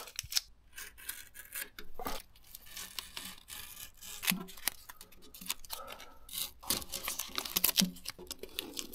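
A cutter slicing through the wheel arch of a Peugeot 205: repeated close, quiet scraping and rasping strokes in irregular bursts, with small clicks between them.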